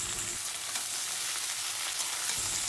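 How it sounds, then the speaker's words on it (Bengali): Water lily stems (shaluk) sizzle in hot oil with fried onions in a pan, a close, steady crackling fry with faint stirring and no talking. "এবার শালুকগুলো এর মধ্যে দিয়ে দিলাম, দিয়ে এইগুলো হালকা ভেজে নিতে হবে।"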